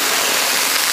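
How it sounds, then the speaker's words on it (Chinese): Water hits bubbling caramelized sugar in a hot wok while braised donkey hooves are being prepared, producing a loud, dense hiss and sizzle throughout the brief moment. "炒起冒泡，掺水"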